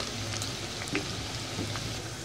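Okra frying in hot oil over low to medium heat, a steady soft crackling sizzle with faint pops throughout, no voices.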